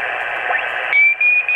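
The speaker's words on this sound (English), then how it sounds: "That's Morse code." A short clip of HF ham radio reception: a loud band of static and noise, then a single clear, steady Morse code tone cutting in with brief breaks.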